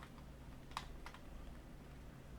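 Computer keyboard keys and mouse clicks during plumbing quantity estimating software work, a few faint, quick taps and clicks close by against a quiet background hum.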